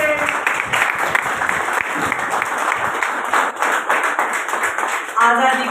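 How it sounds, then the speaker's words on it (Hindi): Loud, sustained applause from an audience at an event honouring a town's craft artists, dense clapping running steadily throughout with a voice rising briefly near the end. "जोरदार तालियों से"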